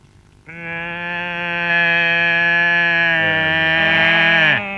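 A man imitates a cow's moo with his voice, holding one long, loud, nasal lowing call for several seconds before it cuts off abruptly.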